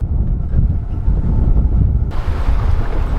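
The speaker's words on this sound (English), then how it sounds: "watching this sea come up quite quickly" Steady rushing wind and churning rough Atlantic sea noise at the back of a sailboat, loud and continuous, with a low rumble throughout and a brighter hiss joining partway through.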